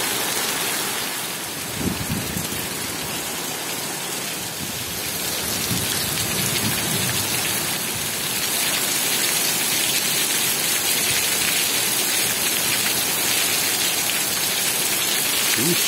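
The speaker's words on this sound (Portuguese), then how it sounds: "chuva." Heavy rain pours steadily during a worsening storm with rising wind, a dense, loud hiss that swells over the span, with no talk.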